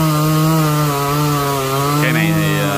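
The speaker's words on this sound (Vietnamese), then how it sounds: "Bây giờ sẽ cắt nhỏ những đoạn có độ dài là 5 tấc để nữa chủ nhà sử dụng để làm củi nha" A chainsaw runs at steady high revs cutting Lồng Mức tree wood into half-metre firewood lengths, loud and close with a constant buzzing drone and a slight pitch shift as the chain bites.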